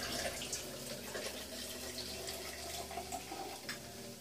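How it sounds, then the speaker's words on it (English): White Monster energy drink poured from a can into a container in a home gym, a soft continuous splashing trickle lasting several seconds, fairly quiet. "I'm going to damn pour me half of a white monster."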